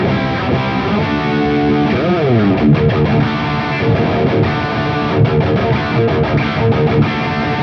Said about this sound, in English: my EVH 5150 Stealth Edition amp is used for the high gain sound